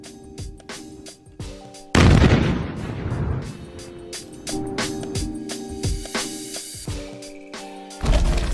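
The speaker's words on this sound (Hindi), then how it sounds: "ये एक्सप्लोसिव से भरी एक स्पेशल रस्सी शूट करता है जो इलाके के सारे माइंस को ट्रिगर करता है।" A mine-clearing line charge, an explosive-filled rope, sets off buried mines in a run of heavy booms and one big blast, followed by rolling rumble and further detonations, with a tonal layer running underneath.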